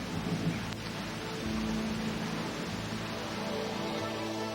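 A thunderstorm in rural country brings a faint, steady wash of rain with low rolling thunder rumbling underneath, distant and even, with no voices.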